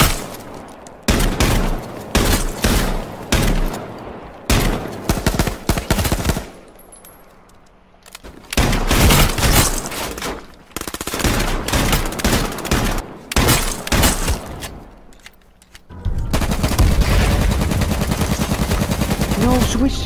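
Gunfire in the H1Z1 battle royale video game: bursts of rapid automatic fire and single loud shots in clusters, separated by brief pauses, ending with a sustained rumbling stretch.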